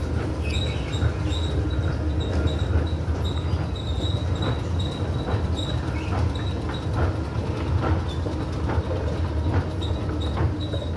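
A 1980 Westinghouse escalator runs in a Macy's furniture gallery at a mall, giving a steady low mechanical rumble with a faint high whine and scattered clacks, heard in a continuous, fairly loud drone without speech.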